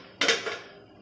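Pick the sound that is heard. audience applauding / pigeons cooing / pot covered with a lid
pot covered with a lid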